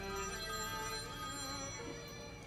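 A mobile phone rings indoors with a steady electronic tone that repeats, heard fairly faint and with no talk over it.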